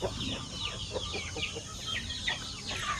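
Native chickens cluck and chatter steadily at feeding time, several birds calling close by in short overlapping bursts over a constant background hum.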